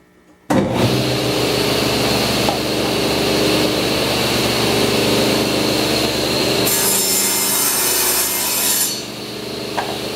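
A table saw recuts a wooden board, starting abruptly with a loud, steady whirring blade and a rasping cut that runs for about eight seconds, close up, with a brief higher whine near the end before the sound drops.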